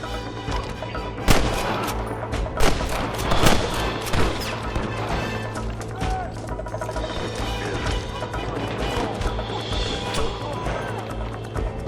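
Repeated gunfire rings out in a Red Dead Redemption shootout with rustlers, sharp loud cracks scattered irregularly over about twelve seconds above a low, constant background hum.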